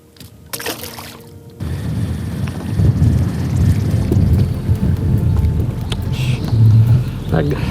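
Strong wind roars across a fishing boat out flounder fishing, a loud, steady, low buffeting rumble that rises after a brief quieter start and keeps gusting throughout.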